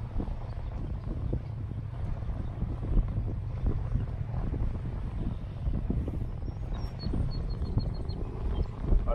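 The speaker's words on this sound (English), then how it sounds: "Another boat." A boat's engine drones steadily from nearby over gusty wind buffeting the microphone, with water sloshing throughout, at a harbor inlet by the rocks.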